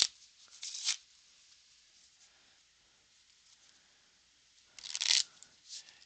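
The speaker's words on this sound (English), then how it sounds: "Alright, let's just give this a shuffle." Playing cards are shuffled twice in quick riffling bursts, soft and close, separated by a few seconds of near silence.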